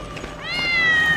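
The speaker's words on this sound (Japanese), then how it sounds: "猫。" A cat meows once in a horror video game, a short rising cry that swells and holds, loud and close, with no talk over it.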